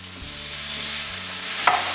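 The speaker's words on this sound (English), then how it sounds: "Now I'll add in the tomatoes" Tomatoes added to a sautéing pan for chana masala, sizzling steadily at moderate volume with a faint low hum beneath and one brief scrape of stirring near the end.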